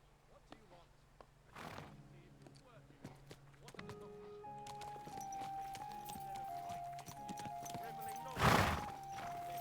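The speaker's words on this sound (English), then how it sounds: "Alright, let's get off the horse." Hooves clip-clop at a steady pace, then a horse gives a loud whinny near the end, with faint ambience underneath, from the video game Kingdom Come: Deliverance II.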